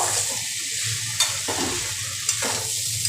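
Steady sizzling of spiced vegetables frying in a pan, broken by a couple of sharp stirring scrapes, with no talking.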